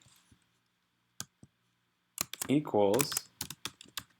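Scattered mouse clicks and a quick run of keyboard typing while entering text into a text box, close and crisp, with a voice speaking briefly over the keystrokes.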